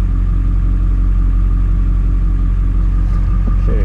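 A steady, loud engine rumble from a truck running in four-wheel high, a constant low drone that holds evenly throughout with no pauses.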